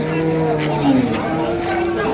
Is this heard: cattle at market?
yes